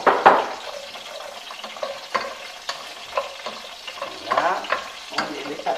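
Small sauce onions and tiny potatoes browning in a pan, with scattered scrapes, clinks and knocks from stirring over a faint sizzle, some louder stirring bursts near the end.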